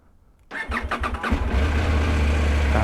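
A motorcycle fitted with an Aoocci C5PRO CarPlay unit and dashcam is started, with a few quick cranking pulses that catch into a steady, loud, close engine idle, with no talking.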